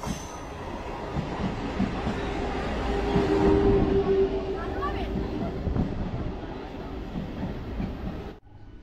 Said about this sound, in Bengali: এক্ষুনি একটা ট্রেন আসবে যত সম্ভব।